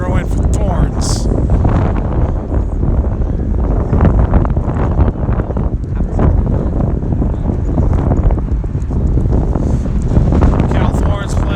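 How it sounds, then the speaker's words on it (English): Wind gusting outdoors at a sports match, loud buffeting roar across the microphone with irregular surges, while a commentator talks over it. "Gusting up a little bit."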